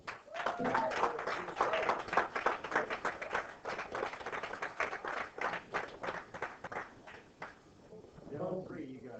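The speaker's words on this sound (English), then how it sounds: "nice round of applause for Mr. Chris Futrell" An audience claps steadily for the winner of a 9-ball pool tournament final at the 2011 Virginia State championship, with dense sustained applause filling the room and a voice heard over it.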